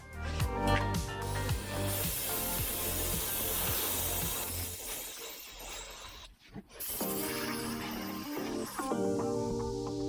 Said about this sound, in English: we're going to paint it using an opaque white